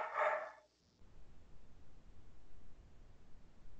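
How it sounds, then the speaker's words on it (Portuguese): A dog barks once in a short, loud burst at the very start, heard during a live online class, then only a low steady hiss remains. "tem algum cachorro latindo"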